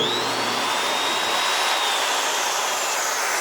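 A Fein Slugger dry-cut cold-cut chop saw bites through metal stock with a loud, continuous, high grinding whine that holds steady and close from start to finish.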